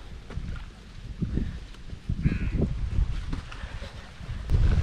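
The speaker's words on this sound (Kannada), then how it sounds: "ಸೊ ಪೀಟರ್ ಅವ್ರದ್ದು ಬೋಟಲ್ಲಿ ನಾವು ಇವಾಗ ಹೋಗ್ತಾ ಇರೋದು" A passenger boat cruises along the Kumbalangi backwaters, with a continuous low engine and water rumble, splashy swells and some wind buffeting the microphone.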